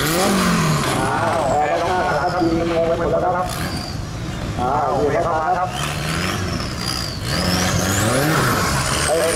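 A 4x4 off-road race car drives in at a Thailand off-road event, its engine revving and rising in pitch over a loud crowd, with excited commentary running throughout.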